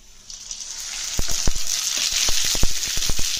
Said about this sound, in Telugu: దీనిలోకి మనం కొన్ని ఆవాలు వేద్దాం